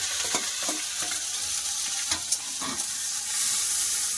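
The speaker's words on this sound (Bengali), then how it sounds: "পেঁয়াজ বেশি ভাজবো না একটু করে কাঁচা করে ভাজা" Thick-cut onions fry in hot oil in a wok (kadai), a steady close sizzle with stirring scrapes and small crackles throughout, the hiss swelling louder near the end; no voices.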